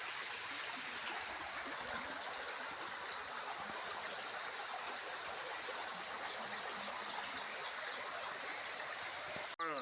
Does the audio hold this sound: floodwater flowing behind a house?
yes